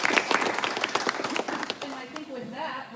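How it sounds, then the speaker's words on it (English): Guests at a water treatment plant ribbon-cutting give a short burst of clapping over talk, and the applause fades as a voice carries on alone. "So give yourselves a round of applause."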